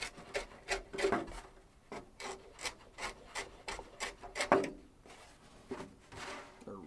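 Body reamer being worked by hand to enlarge a hole in carbon fiber: a quick series of short, scratchy grinding strokes close up and fairly faint, in an irregular rhythm with brief gaps between them.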